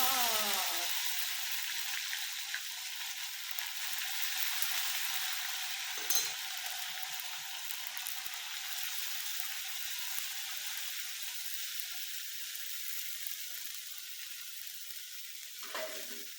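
Onion frying with cumin in hot oil in a kadhai, giving a steady, close sizzle that carries on unbroken, with a few faint clinks of stirring and no talk.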